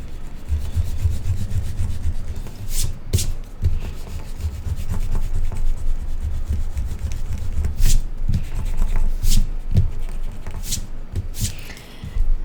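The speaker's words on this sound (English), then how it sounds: "I'm going to erase everything else now." Rubber eraser scrubbing away pencil lines on paper while constructing a triangle's incircle: steady, close back-and-forth rubbing that runs almost without pause, with a few sharper scrapes.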